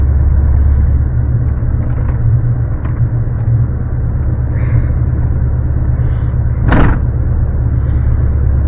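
A 1989 C4 Corvette with a six-speed manual heard from inside while driving, its engine a steady low rumble and drone throughout, with a brief louder thump near the end.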